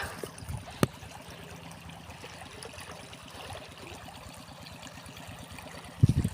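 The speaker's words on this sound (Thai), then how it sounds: "สูบน้ำไหลบัวบัว" Pumped water gushing and flowing into a rice paddy, a steady broadband rush with low gurgling throughout, plus a sharp knock near the start and a few louder splashes at the end.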